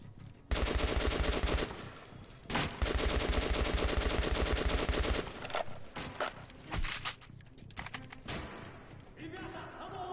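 Long, loud automatic bursts of gunfire blaze in Metro Last Light Redux, two sustained volleys separated by a brief pause, then scattered shots and clatter fading into quieter sounds.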